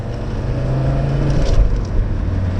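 An Audi 100 C3 Avant with a non-turbo diesel cruises along a road, its engine giving a steady low drone with road rumble, a brief bump-like thud near the middle, heard from inside the car.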